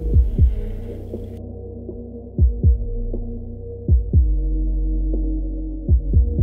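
Heartbeat sound effect in a rap track: deep, booming double thumps repeating at a steady slow pulse over a low sustained hum and droning bass, loud and close with no voice.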